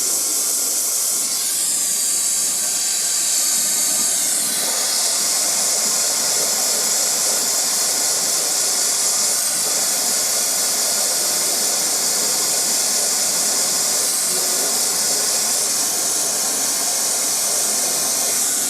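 A brazing torch flame roars with a loud, steady hiss while heating thick copper pipe, close and continuous with slight wavering in pitch.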